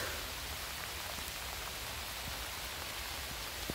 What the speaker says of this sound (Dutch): het regent water